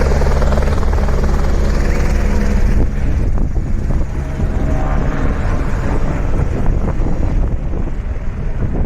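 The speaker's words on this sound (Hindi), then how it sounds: "ये देखिए, हमारा हेलीकॉप्टर उड़ चुका है" A helicopter in flight toward Kedarnath in the Himalayan mountains, heard from inside the cabin as a loud, constant roar of rotor and engine with heavy wind noise throughout and no speech.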